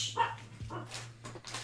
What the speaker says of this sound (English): Someone's barking at the cats again.